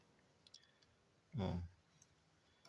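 A special diagnostic tool plugged into the red-capped connector of a Honda Wave 110i AT motorcycle, one short, solid click-clunk in an otherwise quiet space.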